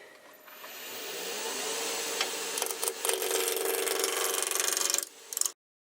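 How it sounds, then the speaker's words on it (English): Wood being roughed into a cylinder on a lathe with a spindle gouge, a steady loud scraping whir of the turning blank that holds for about five seconds, then cuts off abruptly. "I'm just going to rough it out. Turn it into a cylinder now with this spindle gouge"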